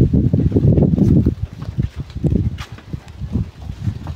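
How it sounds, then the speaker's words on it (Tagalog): Strong wind gusting across an outdoor spot, loud low rumbling buffets that swell and ease unevenly, with no voices. "Sug-kusog paging hangin guys."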